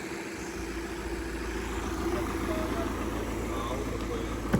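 A BMW E46 car engine, which barely starts, idles with a low, steady rumble throughout, close by, with a faint voice briefly over it.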